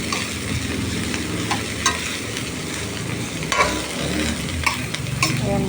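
Vegetables stir-fried in a hot pan for pancit give a loud, continuous sizzle, with spatula scrapes and light clinks tossing through it at a close, busy pace.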